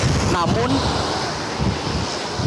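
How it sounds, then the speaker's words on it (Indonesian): Strong wind buffeting the microphone at Merak harbour in Banten, a loud continuous rushing roar with a reporter speaking briefly over it. "angin masih bertiup kencang di Pelabuhan Merak ini"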